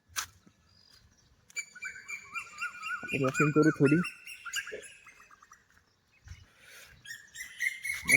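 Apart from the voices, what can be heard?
birds chirping during a morning walk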